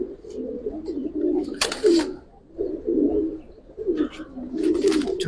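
High-flying pigeons cooing in low rolling phrases, close and fairly loud, broken by a couple of brief noisy rustles or wing flaps.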